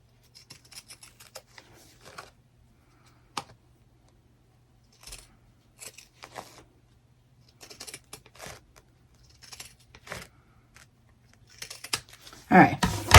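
Scissors snip through fabric for a shabby-style heart stuffie in short separated bursts with quiet pauses between cuts, ending in a louder crinkly rustle.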